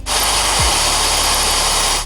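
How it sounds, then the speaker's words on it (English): A steady high-pitched power drill whine runs continuously for about two seconds as a bit drills metal for a GM 2.4 Ecotec engine part, close and loud, starting and stopping abruptly, with no talking. "Let's step up to the next drill bit."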